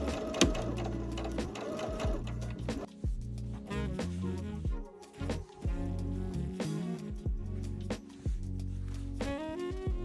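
A sewing machine runs a straight stitch along a 1.5 cm (5/8 inch) seam on a maxi skirt, giving a steady, close mechanical whir with a few brief dips and restarts.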